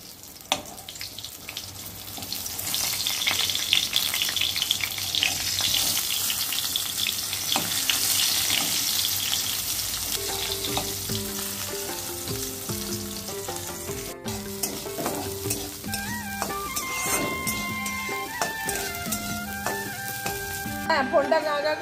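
Pointed gourd (potol) pieces fry in a pan with a loud, dense, steady sizzle and crackle. Partway through, a melodic electronic tune plays over the frying and continues to the end.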